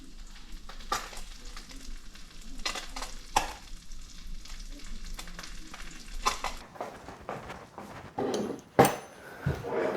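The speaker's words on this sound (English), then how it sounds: "while your fish is cooking, you add a full knob of butter, get a little spoon and baste the fish" Fish sizzling in melted butter in a pan while a small spoon bastes it, soft frying hiss broken by light clinks and scrapes of the spoon against the pan, close and fairly quiet, no talking.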